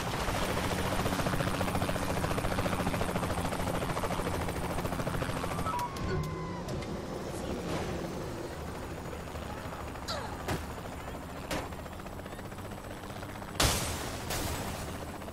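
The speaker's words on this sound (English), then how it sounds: "Where's that guy in the helicopter going?" A helicopter in Saints Row: The Third drones with a loud, steady rotor roar throughout, with scattered sharp cracks of gunfire and bangs punctuating it toward the end.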